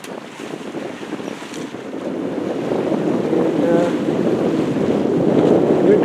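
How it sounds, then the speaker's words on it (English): Steady wind rushes past a small sailboat on a lower bay, buffeting the microphone with a loud, continuous roar that swells slightly toward the end, with water sloshing faintly underneath. "The wind's coming from our port side."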